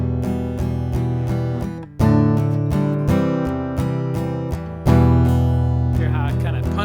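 An electric guitar strums a song with steady down strokes, loud chords punched harder on the first beat of each group, close and alone without speech.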